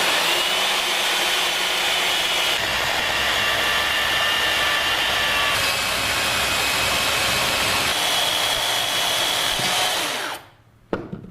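A chainsaw cuts end to end through a block of wood, a loud, continuous motor roar close by that runs for about ten seconds before dropping away, followed by a brief knock.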